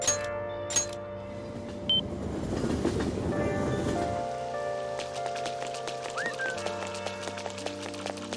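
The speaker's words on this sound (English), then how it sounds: "Rain, huh?" Steady rain falls in Persona 5 Royal, a dense pattering hiss that runs throughout with scattered drip-like clicks on top. No one speaks.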